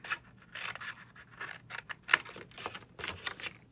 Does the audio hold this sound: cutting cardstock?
yes